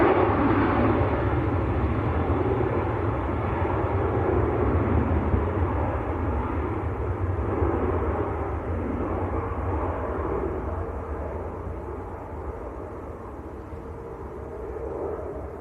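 A Ryanair airliner bound for Funchal departs Manchester Airport, a loud sustained jet engine roar that holds strong and slowly fades toward the end.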